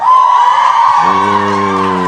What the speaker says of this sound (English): Let's give a cheer for the OG.